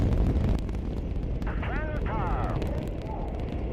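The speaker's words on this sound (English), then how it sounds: "We have liftoff." Apollo 7 liftoff in October 1968, heard as a heavy, continuous low rumbling roar that stays dense and steady, with brief radio beeps in the middle.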